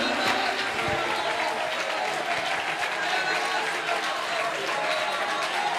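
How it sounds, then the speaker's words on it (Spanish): A church congregation applauds during a worship service at a convention in Aruba, steady dense clapping from a crowd filling the room, with voices mixed in throughout. "Dele un aplauso y llénese de su presencia"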